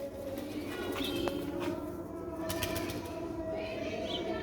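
Pigeons kept for sale coo and flap their wings close by, soft throaty coos mixed with brief bursts of wingbeats over a steady background hum.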